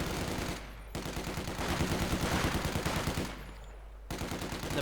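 Bursts of rapid machine-gun and rifle fire in a Company of Heroes 2 battle, sustained rattling volleys broken by brief pauses, dense and moderately loud, with no speech.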